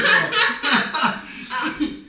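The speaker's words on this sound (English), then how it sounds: "I have a cough." A few short coughing bursts close to the mic, rough and breathy, with little else around them.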